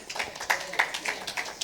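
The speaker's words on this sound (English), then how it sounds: "a round of applause for" An audience at a community debate event claps: a short run of distinct, fairly close handclaps in a loose, steady rhythm, with a faint murmur of voices underneath.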